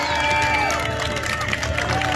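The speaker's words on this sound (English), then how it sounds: "So give everyone a round of applause here." Outdoor crowd at a Freedom Convoy rally in Osoyoos, BC applauds and cheers, a loud, dense roar of clapping and voices with whistles and horn tones mixed in, continuous throughout.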